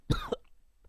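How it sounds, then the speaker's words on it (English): A man gives a single harsh cough up close, a sharp burst followed by a brief throaty tail, then quiet. "My daughter's got a cough, and she gave it to me."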